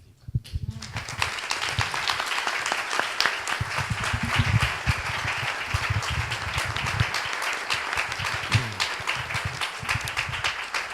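Audience applause at a tribute event honoring the artist Diego Moya, a steady sustained round of clapping that starts almost at once and stays dense and even for about ten seconds without letting up.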